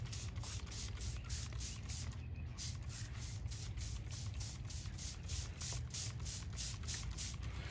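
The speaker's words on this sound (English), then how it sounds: "just showing you how we spray" A handheld sprayer mists rose leaves in a continuous, even hiss that runs steadily throughout at low volume, close by, with no talk.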